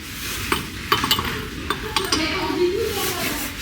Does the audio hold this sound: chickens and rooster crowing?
no